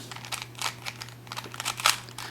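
A two-layer cuboid twisty puzzle being turned through a restricted domino-style scramble gives a string of quick plastic clicks and crinkly clacks, close and fairly quiet, with no talking.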